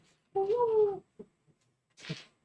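A single clear, high-pitched meow from a small cat, followed by a few soft rustles and a short breathy sound, close and quiet.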